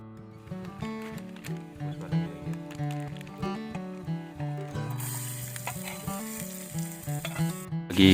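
Sausages and a pepper stir-fry sizzle and crackle in a pan at a mountain campsite at Cikasur on the Argopuro trail, a steady close frying hiss with stirring scrapes and clinks throughout.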